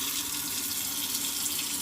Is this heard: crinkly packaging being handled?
no